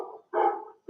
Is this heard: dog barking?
yes